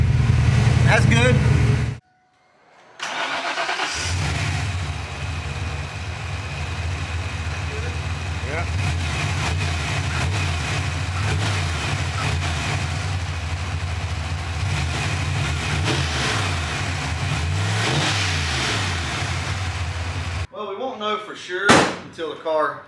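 A Ford Mustang Fox body engine with timing set a degree low runs steadily with a deep, continuous rumble that swells at times. Brief thuds come near the start and end, and voices are faintly present.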